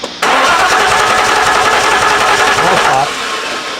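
A car engine cranking over without starting: loud, rapid rhythmic churning of the starter runs for about three seconds right up close, then drops away, while people talk over it.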